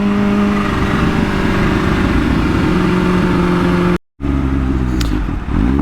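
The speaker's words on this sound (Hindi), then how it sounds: "दिल चाह रहा है इसका रेव लिमिटर मैं एक दफ़ा ट्राई करूं" A Kawasaki Ninja H2 motorcycle on a night ride through Lahore, engine held at a loud, sustained high rev with a steady droning tone, a brief cut-out, then resuming and wavering.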